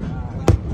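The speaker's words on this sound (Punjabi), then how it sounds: "ਰੈਪਿਡ ਫਾਇਰ ਯਾਰ ਪਟਾਕੇ ਚੱਲਣ ਭਾਜੀ ਠਾ ਠਾ ਠਾ ਠਾ ਠਾ" A single sharp firecracker bang bursts out loud and close, cutting briefly through a low steady rumble.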